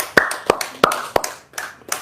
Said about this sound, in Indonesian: Oh, tepuk tangan dong.